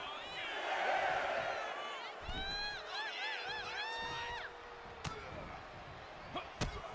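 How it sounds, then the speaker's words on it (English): Arena crowd in the wrestling video game WWE 2K25 cheers and whoops loudly, rising and falling with sharp slams and impacts between bursts, beneath a commentator talking. "Jacob Fatu feeding off the crowd"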